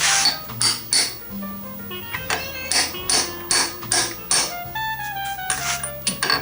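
A clutch part is hammered into a turbo Festiva using a 27mm socket: about a dozen close, sharp metallic strikes in an uneven rhythm, each leaving a brief ringing tone.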